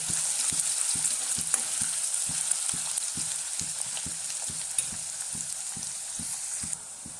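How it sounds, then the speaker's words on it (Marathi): Finely chopped onion fries in a pan with a constant soft sizzle, punctuated by regular rhythmic taps of a spoon stirring against the pan, close and steady without speech. "बारीक चिरलेला कांदा घालून घेऊ कांदा जरा लालसर रंगावर भाजून घेते"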